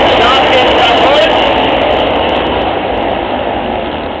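Short track speedway motorcycles roar off the start line at a Czech mile-track race, a dense, loud, continuous engine din that slowly eases, with a commentator talking over it.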